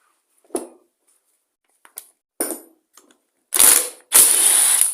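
A ratchet works on an engine flywheel that is being removed, with a few short separate clicks and then two louder sustained bursts of ratcheting near the end, close and clear, with no talking.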